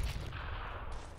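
A grenade blast in CS:GO: a single dense, low rumbling explosion that fills the whole short moment, loud and close, with a sustained roar that barely tails off.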